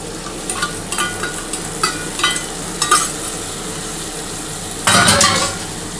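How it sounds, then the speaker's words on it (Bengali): Spice paste of turmeric, salt, sugar and Kashmiri chilli powder sizzling in a pan, with repeated scraping stirs and a louder burst of frying near the end. "খুব ভালো করে এটা নাড়াচাড়া করতে হবে। খুব ভালো করে কষিয়ে নেওয়ার পরে"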